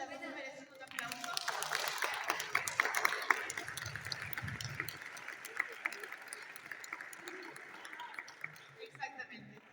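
Audience applause at a literary conversation event at the Quito book fair, FIL Quito 2024, a sustained ragged clapping lasting several seconds from a moderately distant crowd, with some voices mixed in.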